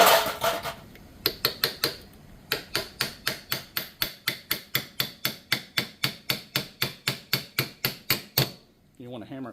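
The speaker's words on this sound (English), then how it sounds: "You want to hammer it all the way down to where it's flush with the end of the rotor there." A brass punch is hammered to tap a part flush into a Ford Motorcraft 6G alternator rotor, about thirty sharp metallic strikes in a steady, even rhythm, close and loud, then they stop.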